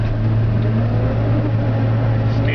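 Steady low engine drone of a rice combine harvester being put into gear in the field, loud and close, an even continuous rumble with no clear change in pitch.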